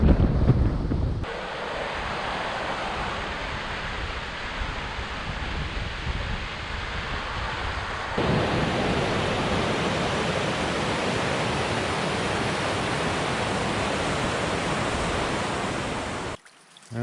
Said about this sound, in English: it's pissing rain and 40 degrees